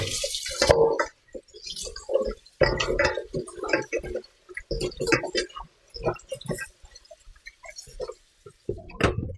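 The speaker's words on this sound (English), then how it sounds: "Okay, now I'm going to rinse them off." Tap water splashing intermittently while food is rinsed in a kitchen preparing Jamaican hominy corn porridge, with short bursts of running and dripping water separated by brief pauses, close and fairly quiet.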